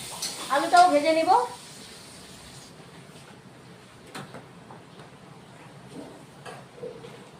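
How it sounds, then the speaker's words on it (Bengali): Salted potato pieces fry in a pan until reddened, a soft, faint, continuous sizzle following a short burst of voice at the start. "লাল করে আলুটা ভেজে নিলাম"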